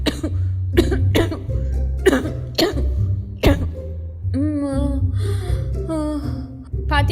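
Several harsh, loud coughs come in quick bursts close by, followed by throat clearing and strained vocal sounds as a person talks in between.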